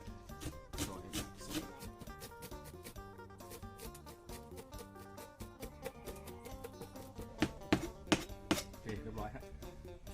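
A knife chopping coriander on a cutting board, quick irregular taps with brief pauses, with soft background music and a little talk underneath.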